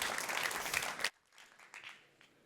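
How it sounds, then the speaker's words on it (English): A room of people at a tech pitch event claps for a finalist, dense applause that stops abruptly partway through, followed by faint scattered sounds. "Give him a round of applause."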